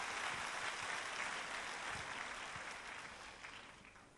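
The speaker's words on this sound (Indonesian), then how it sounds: "Beri tepuk tangan yang meriah buat Tuhan" A church congregation gives a round of applause to God during a service, a continuous, even wash of many hands clapping, fairly distant and soft, slowly fading.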